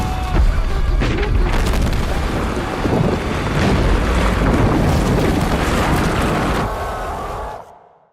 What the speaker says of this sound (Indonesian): para pekerja sepakat untuk meledakkan gunung tersebut